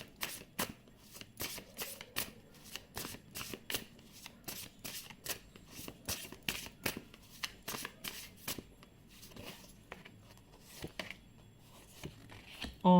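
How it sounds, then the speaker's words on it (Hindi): A tarot card deck riffled and shuffled by hand, a long run of crisp rapid card flutters and slaps, close and clear, repeating in bursts with only brief pauses. "इस डेक से कुछ कार्ड्स हम निकाल लेंगे।"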